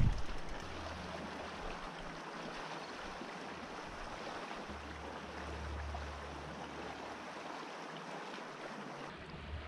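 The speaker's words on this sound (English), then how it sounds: "So I just came to my first creek crossing." Water rushes steadily through a creek being crossed on a bikepacking ride along the Great Divide route in Colorado, a continuous close wash of flowing water with low rumbling, no talk.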